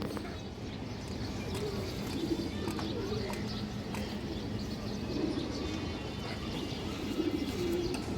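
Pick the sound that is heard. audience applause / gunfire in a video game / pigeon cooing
pigeon cooing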